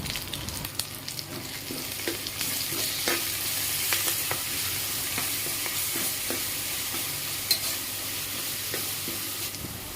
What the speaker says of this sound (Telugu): 2 టేబుల్స్ అల్లం వెల్లుల్లి పేస్ట్, కరివేపాకు వేసుకొని ఫ్రై చేసుకోవాలి